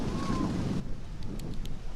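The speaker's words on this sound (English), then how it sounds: "A windy afternoon here at Huenden Community Center." Wind gusts across an outdoor community-center football field during a women's semi-final match, heard as a rough rushing buffet for under a second that then drops to a quieter breezy hiss.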